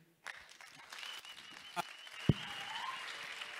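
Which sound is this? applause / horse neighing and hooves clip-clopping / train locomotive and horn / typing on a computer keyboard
applause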